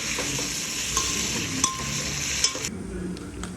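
Steady sizzling of food frying in a pan for chicken biryani, with soft scraping strokes as it is stirred, close by and continuous.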